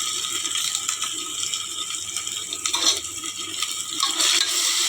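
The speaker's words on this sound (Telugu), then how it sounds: "ఇప్పుడు ఇందులో అల్లం వెల్లుల్లి పేస్ట్ వేయాలి" Ginger garlic paste frying in hot oil for paneer biryani, a steady close sizzle with rhythmic scraping and clicking from a spoon stirring the pan.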